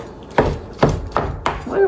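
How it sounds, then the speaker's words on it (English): A knife cuts a red pepper into big chunks on a board, four distinct close chops spaced roughly evenly, each a sharp thud with a brief crisp tail. "So I'm just gonna slice up this red pepper."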